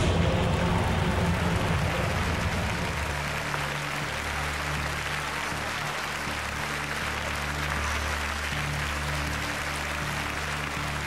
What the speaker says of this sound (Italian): un applauso da parte del pubblico